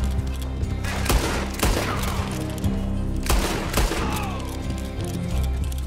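Gunfire in Red Dead Redemption 2 Online, a loud, rapid series of sharp shots in several clustered bursts over a reverberant rumble, with no talking.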